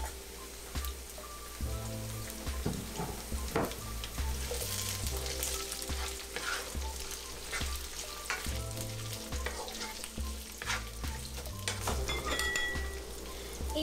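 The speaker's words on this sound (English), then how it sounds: "I'm just going to saute it for like 10 to 15 seconds, and then I'm going to add some chopped onions" Chopped onions sizzle steadily in a hot pan with garlic, a constant crackling fry under occasional scraping stirs, close and continuous.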